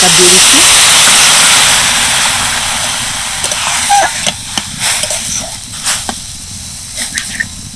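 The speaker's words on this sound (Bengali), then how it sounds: "এবার আমি এর মধ্যে দিয়ে দেবো এক কাপ দুধ" Cup of liquid milk poured into carrots fried in ghee, a loud hissing sizzle at first that gradually fades into quieter bubbling with scattered pops and clinks.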